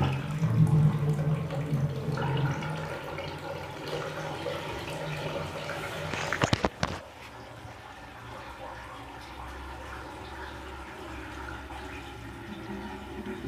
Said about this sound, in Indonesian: kita berfungsi dengan membuka keran di wastafel